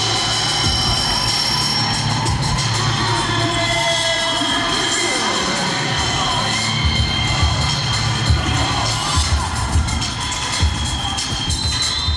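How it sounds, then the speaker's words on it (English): A football stadium crowd at a Lingerie Football League game between Seattle Mist and LA Temptation roars continuously, a loud, dense cheering mass with rising shouts, with a commentator talking over part of it. "This crowd loves it. They're excited."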